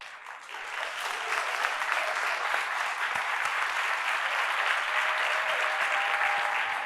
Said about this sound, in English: Can we give our kids a standing round of applause?